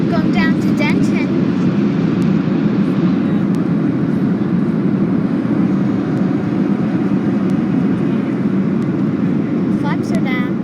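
Inside the economy cabin of an American Airlines Boeing 737-800 on approach to DFW with flaps down, a constant loud low roar of engines and airflow fills the space, with faint voices over it.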